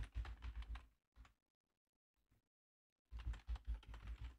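Someone types an email address on a computer keyboard. Two dense bursts of rapid keystrokes are heard, separated by a quiet pause with a few isolated clicks. The typing is close and clear.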